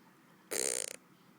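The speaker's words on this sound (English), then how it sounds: "It's like the longest prolonged hiccup." A baby gives a single prolonged hiccup-like gulp, a close, brief burst that breaks into a few quick pulses before fading into quiet room tone.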